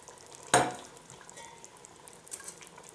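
Chopped onion lands with a single sharp clatter in a pot of winter vegetable and veal stew, followed by faint scraping and stirring sounds at close range.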